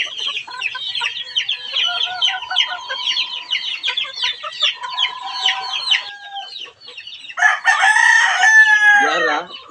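Chickens cluck busily and a rooster crows in a loud, steady chorus at close range, with a hen squawking sharply near the end as she is let out.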